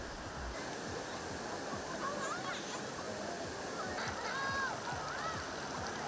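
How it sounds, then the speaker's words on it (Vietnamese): A waterfall pours into a forest stream in Dak Sin commune: a continuous, broad roar of falling water, moderately loud, with faint voices and brief tonal sounds drifting over it. "hòa lẫn tiếng thác đổ"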